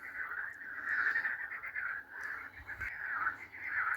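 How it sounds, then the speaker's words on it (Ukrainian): A chorus of frogs croaks at a garden pond on a drizzly spring evening, a continuous dense trilling that swells and dips at moderate distance, with nothing else prominent. "У нас знову жаб'ячий концерт на ставку."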